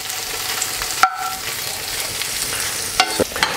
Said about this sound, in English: And then just going to fry those off for a couple of minutes.